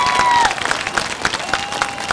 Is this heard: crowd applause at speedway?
yes